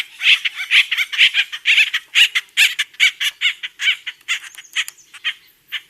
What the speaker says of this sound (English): bird number one is an acorn woodpecker